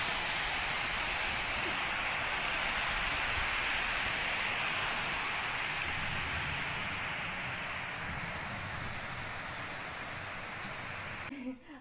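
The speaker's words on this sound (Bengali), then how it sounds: "হঠাৎ করে এই বৃষ্টি শুরু হলো" Sudden rain pours down in a dense, steady hiss that stays loud and even for the whole stretch, then cuts off abruptly at the end.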